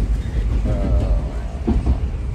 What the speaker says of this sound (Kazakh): Азыр аскемди көргөзгөнчө метро менен кетип бараткан жайыбыз.